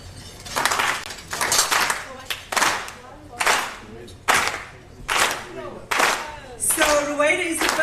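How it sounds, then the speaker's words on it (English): A live audience at a networking event gives a slow clap: about eight loud, evenly spaced bursts of applause roughly a second apart, the last one running into cheering. "can we do a slow clap?"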